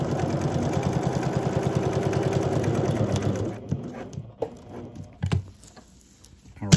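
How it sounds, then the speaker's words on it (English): A sewing machine stitches through a single layer of a placemat, running in a steady, rapid mechanical patter for about three and a half seconds, then stopping, followed by a few faint handling bumps. "I'm only sewing through one layer, not through those other layers."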